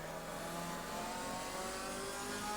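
McLaren race car engine at full throttle on the Brands Hatch circuit, a loud, steady high-pitched roar that climbs as it accelerates, continuous and close.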